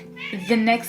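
Pet cat in a countryside home lets out a short, loud meow close by, with a person speaking over it.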